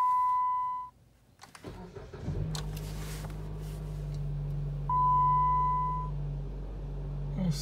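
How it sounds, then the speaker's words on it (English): A Jeep Patriot engine with a newly installed throttle body cranks with a couple of sputters, then catches and settles into a steady idle, while a warning chime beeps briefly before and after. "now I'm about to try to start the car"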